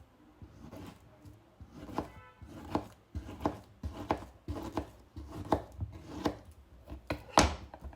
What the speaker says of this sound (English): If you want to cut this into smaller pieces, yeah, okay, let us try with the other knife